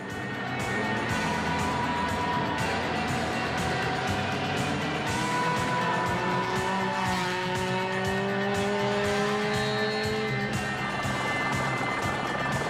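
A Ford Escort GT rally car drives a stage at the 1993 Canadian Rally Championship, its engine loud and close, revving up and down through gear changes with bursts of tire noise on the surface.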